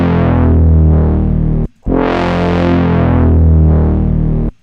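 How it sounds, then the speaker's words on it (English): A distorted synth chord swells and sweeps as a filter is moved by hand, in two loud sustained phrases separated by a brief cut, with a slowly wafting tone. "it created this nice kind of wafting sound"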